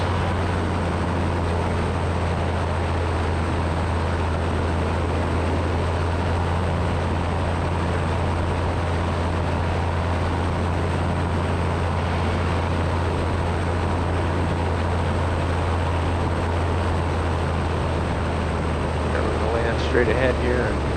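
A Super Petrel light aircraft engine drones steadily from inside the cockpit, a loud, constant hum that runs through the whole stretch while a pilot talks intermittently over the noise.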